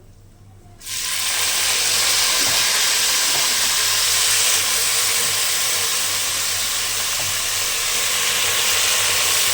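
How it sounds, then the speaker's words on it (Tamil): Fresh mint leaves dropped into hot oil in a pot for mushroom biryani, a sudden loud sizzle that starts after a quiet moment and holds as a steady, bright hiss. "புதினாவை எதுக்காக திரும்ப நான் எண்ணெயிலேயே உடனே சேர்க்குறேன்"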